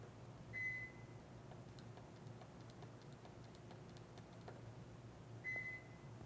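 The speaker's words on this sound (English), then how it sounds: "Notice it's now beeping at you." Two short electronic beeps from a Subaru's PIN code keypad, spaced several seconds apart over a quiet background hum.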